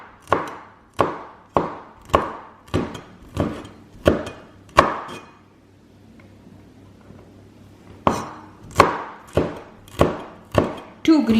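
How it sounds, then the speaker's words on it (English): A knife chops green chili on a cutting board in a home kitchen: sharp, evenly paced thwacks, close and clear, with a pause midway before the strokes resume at the same steady rhythm. "chop green chili"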